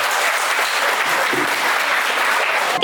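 A crowd of guests claps steadily at an education service's welcome party, dense continuous applause filling the room from start to finish with no speech over it.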